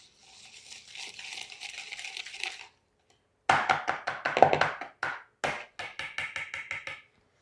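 Butter and sugar for a cake being beaten in a bowl, a steady run of quick tapping strokes followed by short rhythmic bursts of whisking with pauses between, close and clear.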